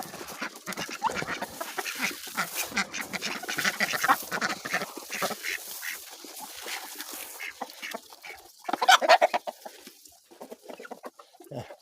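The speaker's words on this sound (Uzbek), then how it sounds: "Kurkalarimiz ham chiqib, don yegan chiqyapti" Farmyard turkeys and other fowl out feeding on scattered grain, giving a busy mix of quacks, clucks and squawks at close to middle distance, with a louder burst of calls toward the end.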